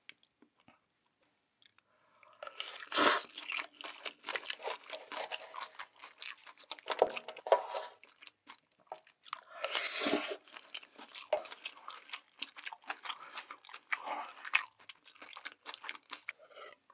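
Someone chews steamed seafood such as crab, octopus, scallop and shrimp, with wet squishing bites and sharp crunches in irregular bursts. The sounds are close-miked and intimate, with no talking.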